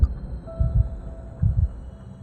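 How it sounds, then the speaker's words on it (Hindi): Heartbeat sound effect from a Hindi horror story: loud, deep low thumps in paired lub-dub beats, repeating at a steady pace over a soft hum, with no voices. "रवि का दिल जोर जोर से धड़कने लगा।"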